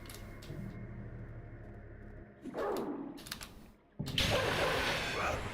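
Hostile dogs in the dark fantasy game Lunacid bark and whimper in short sharp bursts, loud and close, over a low droning game ambience.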